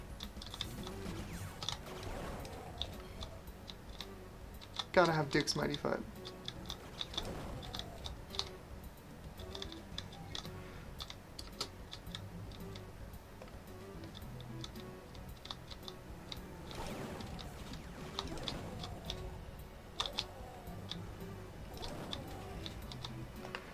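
Someone types on a computer keyboard in irregular bursts of quick clicks with a few pauses, while a person speaks briefly.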